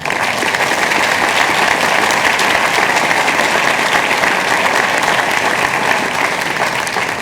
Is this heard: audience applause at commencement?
yes